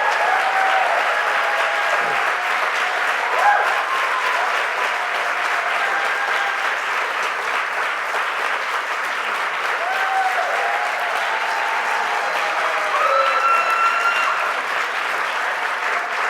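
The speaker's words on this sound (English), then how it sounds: "Please give a warm round of applause for Dr. Ann Barnett." A human rights awards ceremony audience gives long, steady applause, a dense wash of clapping that holds for many seconds while faint voices and cheers rise underneath.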